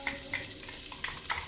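Diced onions and garlic fry in a pot, a close, bright sizzle with a few scraping stirs over it.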